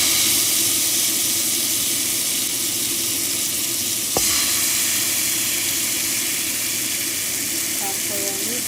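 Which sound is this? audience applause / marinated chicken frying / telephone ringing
marinated chicken frying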